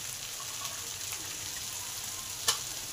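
Vegetables and Malabar spinach frying together in a pan for fish-head chhyanchra, a soft continuous sizzle with one brief clatter near the end, no voices.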